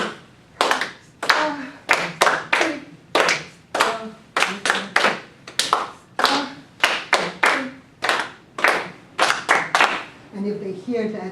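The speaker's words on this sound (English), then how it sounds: "So for a stop signal, we're going to go clap, clap, rise, clap, tick, rise," A classroom stop signal beaten out in a repeated rhythm of hand claps and taps, loud and close, in evenly spaced bursts with short pauses between phrases.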